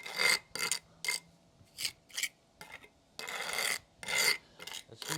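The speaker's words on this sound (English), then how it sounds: "pick a trowel up and just push it in." A trowel pushes and scrapes grout into patio joints in a string of close, gritty rasping strokes, about nine uneven swipes with brief pauses between them.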